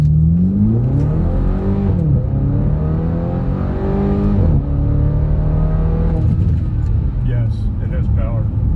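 A 2010 BMW X5 M pulls away hard from a red light, its engine note rising through steady loud revs with a gear change partway. The driver talks over the noise throughout.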